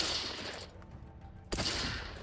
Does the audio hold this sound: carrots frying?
no